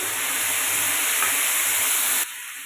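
Paste of garlic, ginger, chili, cumin and onion dropped into onions fried red for koraishuti ghugni, giving a loud steady sizzle and hiss in the pan that drops suddenly near the end.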